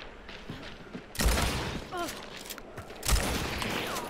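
Gunfire in the video game Hunt: Showdown: two sharp, loud shots about two seconds apart, each with a ringing tail over faint ambient game noise.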